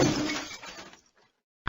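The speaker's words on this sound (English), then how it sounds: "The glass pane shattered." A glass pane shattering when a cricket ball is dropped onto it: one loud crash that breaks into scattered tinkling fragments and fades within a second, with a brief sharp knock at the very end.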